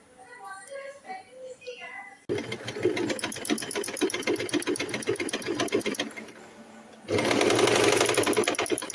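A sewing machine stitches a sleeve onto a kurti, a rapid, loud mechanical whirring that starts after someone speaks briefly, pauses for a moment, then resumes louder and faster.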